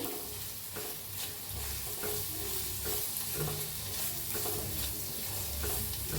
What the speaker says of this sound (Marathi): मीठ चवीप्रमाणे हलवून घेऊया